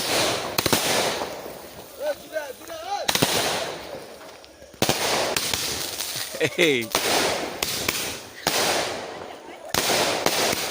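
Fireworks burst overhead at a Rath Yatra temple festival, a series of loud broadband booms and crackles recurring throughout, with people talking and exclaiming beneath the blasts.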